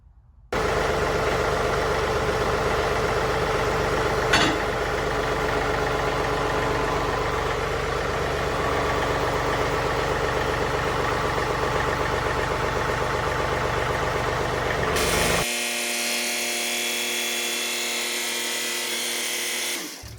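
A John Deere 3039R compact tractor engine runs at a steady, loud idle-like drone, then the tone shifts lower and smoother as it backs up in four-wheel drive over its mower deck.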